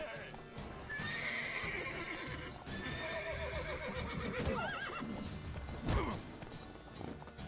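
In the video game The Witcher 3, a horse neighs several times among clopping hooves and scuffling game sounds, fairly close and busy throughout, with a louder burst of action near the end.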